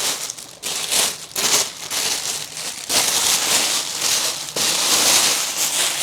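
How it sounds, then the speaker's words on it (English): Plastic bag crinkling loudly up close as a printmaking brush is pushed inside, bursts of dense crackly rustling with brief pauses, no voices. "I'm just going to put the brush for the moment inside a plastic bag."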